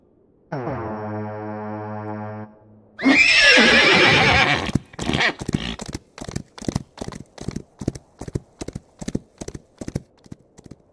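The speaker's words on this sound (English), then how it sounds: "the hooves of the horses pounded the earth" A horn sounds, then a horse whinnies loudly, followed by a rapid, rhythmic pounding of hooves as several horses gallop away on hard ground at the start of a hunt.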